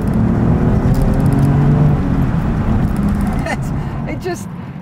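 A manual BMW 630i E63 with the N52 engine drives with its windows open, a loud, steady engine drone and road rumble that eases off slightly toward the end, with someone talking over it.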